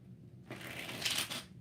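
Deck of tarot cards being shuffled up close, a short burst of soft riffling and flicking that starts after a brief quiet pause and lasts about a second, with no one talking over it.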